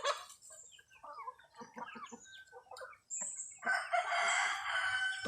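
White Rhode Island chickens crowing and clucking close by, with a rooster's drawn-out crow among short clucks and cackles, loud and overlapping with no talk.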